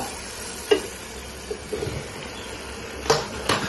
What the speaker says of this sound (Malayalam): കുറച്ച് നേരം അതിലിട്ട് നന്നായി ഇളക്കി വെച്ച് തീർക്കണം